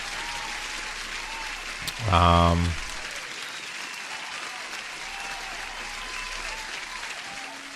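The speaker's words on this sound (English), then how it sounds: "I totally forgot to give you guys an applause for being here early" A canned applause effect fires once, a short, loud burst lasting under a second, dropped into a live futures day-trading stream, with someone talking quietly before and after it.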